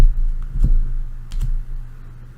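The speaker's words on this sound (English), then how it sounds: "Let's do a really quick shuffle." Tarot cards shuffled quickly close by, producing soft papery flicks and a couple of light slapping riffles over a low background rumble.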